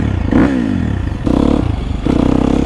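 A Husqvarna FC250 four-stroke motocross bike revs close and loud in short bursts, the engine surging three times with a throttle blip and rising pitch between clattering idle.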